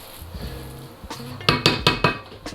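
Metal spoon scraping and knocking against a pot while jollof rice is stirred, a run of five or six quick clinks close up after a soft start, with no talking.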